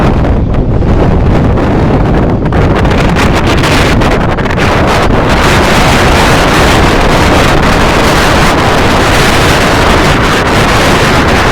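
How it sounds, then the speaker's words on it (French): Strong wind on the Camino Francés roars and buffets the microphone continuously, loud and broadband, with gusting rumble and no talking. "vous allez vous rendre compte de la force du vent"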